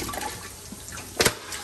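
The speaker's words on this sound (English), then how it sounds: "soda's going down the drain" Soda pours down a kitchen sink drain, a steady gurgling rush of liquid with a brief louder splash near the end, heard close and alone.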